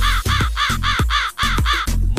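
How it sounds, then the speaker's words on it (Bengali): A crow caws loud and close, a rhythmic run of about eight harsh calls in quick succession with short gaps between them. "দুষ্টু কাউয়া ডাকে রে"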